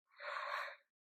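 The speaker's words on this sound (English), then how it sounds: "I'm feeling the urge to yawn really strongly, so when I'm channeling, I do tend to yawn." A person yawns once, a single breathy exhalation lasting under a second, close and fairly soft, with no talking.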